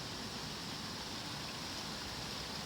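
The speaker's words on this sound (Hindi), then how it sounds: "मैम बारिश चालू है." Steady rain falling just outside an open window, a dense, even hiss of drops with no pauses, moderately quiet and continuous throughout.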